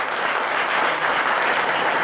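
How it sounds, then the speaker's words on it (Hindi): Full, steady applause from an audience at a gathering where speakers are being introduced, dense and continuous throughout with no talking over it. "अगर नहीं तो भरपूर तालियां ला दे"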